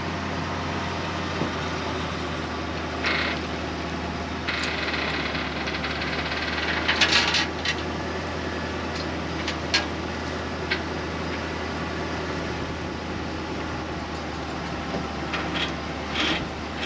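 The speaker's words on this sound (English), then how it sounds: "So Dad's gonna bring over the tractor." A tractor engine idles steadily nearby while it lifts an old farm truck cab being stripped for parts for a 1955 Chevy pickup, with a constant low drone and scattered metallic ticks and clanks over it.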